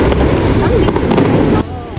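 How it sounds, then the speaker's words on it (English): Fireworks going off at night in rural China, unseen: a dense, continuous roar of crackling bursts and booms close by, cutting out abruptly near the end to leave only faint background. "our day ended with fireworks. We cannot see them, but we can hear them."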